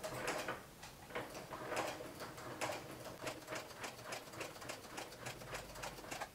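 A sewing machine fitted with a walking foot stitches through fabric, giving a steady run of rapid, evenly spaced mechanical clacks close to the microphone, with no talking.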